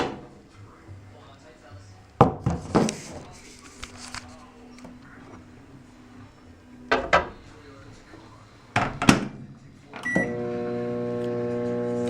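A kitchen microwave oven heats food. Dishes and a door clatter at first, then the oven starts with a steady electric hum near the end.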